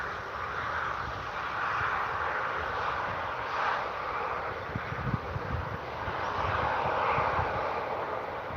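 A TAP Airlines airplane from Portugal at Manchester Airport, its jet engine a steady broad roar that swells and eases slightly, heard from a distance outdoors with some wind noise.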